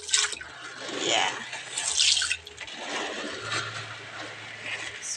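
Tap water runs into a kitchen sink as beans are rinsed, a moderate splashing stream with drips and bursts of agitation, fairly close and steady for several seconds.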